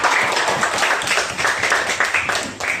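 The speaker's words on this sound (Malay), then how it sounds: "Tepuk tangan semuanya." A classroom of pupils clapping their hands together in a dense, continuous burst of applause, steady and fairly loud throughout with no talking over it.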